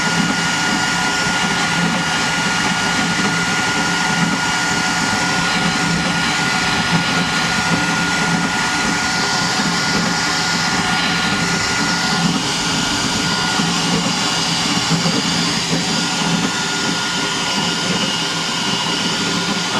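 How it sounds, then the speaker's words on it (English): A 3D printer's cooling fan on a crossed-gantry machine runs loudly and steadily throughout, a constant close whooshing roar with no talk over it. "You may not be able to hear me as well because of that fan. It's cranking."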